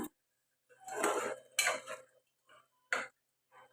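A spoon stirs goat trotter curry in a metal pot after coriander is added. Close, distinct bursts of scraping and clinking come in several separate strokes, with silence between them.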